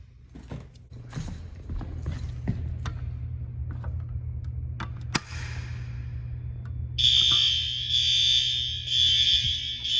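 A newly installed school fire alarm system is tested, with mechanical clicks and creaks under a low hum before a loud, piercing electronic alarm tone starts and pulses steadily over the last few seconds.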